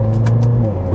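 BMW X3M engine running with a loud, close, steady low drone and faint rev pulses over a brief moment, no voices.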